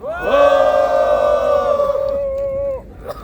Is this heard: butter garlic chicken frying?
no